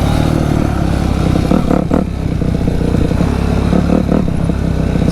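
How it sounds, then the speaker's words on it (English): Loud dirt bike engine idling steadily in a backyard after being shifted into neutral, a continuous rough drone with a few brief mechanical clatters. "this bike is very loud. Shifted into neutral there."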